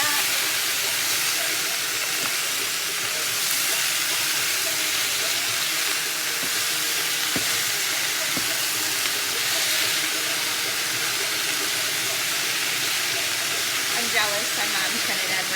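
Italian sausage, onions and red pepper sizzle steadily in a hot pan, a continuous loud hiss and crackle that holds through the whole stretch with faint stirring knocks underneath.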